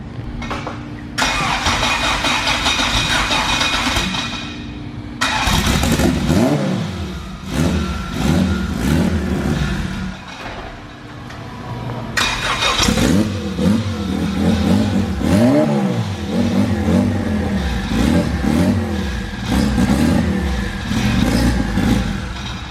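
A Honda Civic engine cranks and starts, then revs hard again and again through gear shifts, loud and close, with brief dips between the rising pulls.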